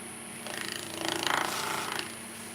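A wooden piece spins on a lathe as it is hollowed out, a rapid chattering scrape that swells and fades over a couple of seconds above a steady motor hum.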